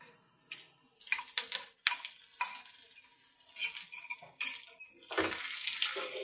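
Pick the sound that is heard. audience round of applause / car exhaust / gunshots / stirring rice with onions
stirring rice with onions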